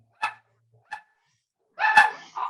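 A dog barks in a few short separate yaps, then a louder burst of barking, close and alone with no talk over it.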